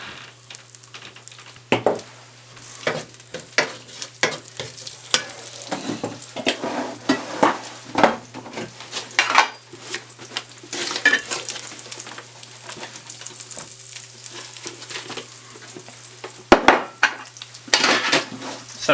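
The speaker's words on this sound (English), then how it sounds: "So we are making our roux," Coconut oil and flour being stirred into a roux in a pan, with soft sizzling and frying under repeated scraping and clinking of a utensil against the pan, close and steady throughout.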